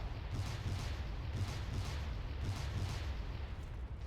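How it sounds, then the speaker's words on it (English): Artillery barrage in the Steel Panthers war game: a dense, continuous rumble of distant shell bursts with rhythmic thuds roughly every half second, loud and steady with no talk. "He's barraging that place as well."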